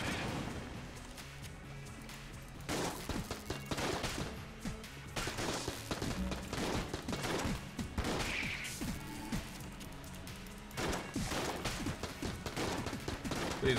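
Yari launcher firing at a boss in Enter the Gungeon, a rapid fusillade of repeated bursts and crashes running continuously with brief gaps, loud and busy throughout.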